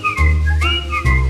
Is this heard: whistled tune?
yes